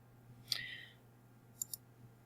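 A computer mouse clicking an Update button in grading software: one crisp click, then a quick pair of lighter clicks a second later, close and quiet against a low steady hum.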